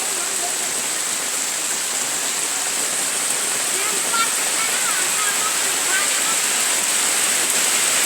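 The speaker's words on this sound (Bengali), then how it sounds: "বৃষ্টির ভিডিও ছাড়তেছি মোবাইলে। যে বৃষ্টি হচ্ছে" Heavy rain pouring over a rural wetland, a loud, unbroken hiss of downpour filling the whole scene, with someone talking faintly under it.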